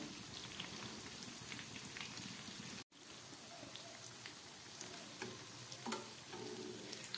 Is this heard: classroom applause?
no